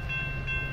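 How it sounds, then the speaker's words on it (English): A train whistle sound effect gives a steady, sustained tonal blast over a low rumble, held for the whole short moment at moderate loudness. "give me a train whistle. All aboard."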